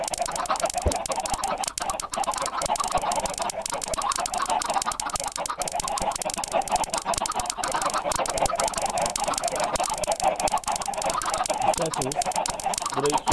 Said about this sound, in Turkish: Buraya yaklaşık bin tane tavuk var.